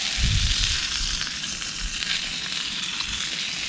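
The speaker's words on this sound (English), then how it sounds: "So I'm cooking it up at the moment." A leftover burger frying in a pan for breakfast at a November wild camp, a continuous close crackling sizzle with a few low bumps from stirring or moving the pan, no speech.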